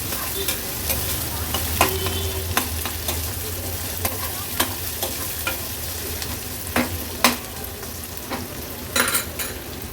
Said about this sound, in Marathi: आता कांदा आपल्याला लो टू मीडियम फ्लेमवर शिजवून घ्यायचा आहे